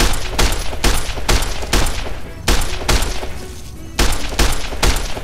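Heavy Fallout: New Vegas gunfire: loud, close volleys of shots erupt in repeated bursts about half a second apart, with short pauses between clusters and no talking.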